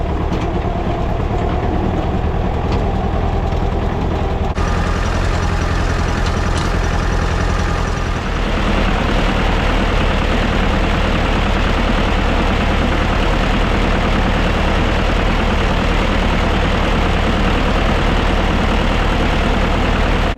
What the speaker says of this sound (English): now all we've got to do is hop on the tractor